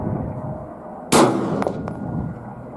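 A single sharp, loud unsuppressed shot from a Glock 17 9mm pistol firing supersonic Perfecta 150 grain ammunition, with a short ringing decay and faint follow-up clicks afterward.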